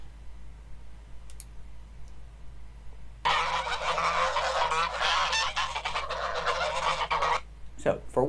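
A Toulouse goose honks loudly and close for several seconds in a dense, harsh burst of calls, with quieter background sound before and after.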